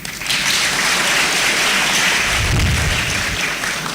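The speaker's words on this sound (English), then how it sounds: "please clap for him" A school audience applauds a visiting guest with dense, sustained clapping that fills the room, loud and even for several seconds before easing slightly at the end.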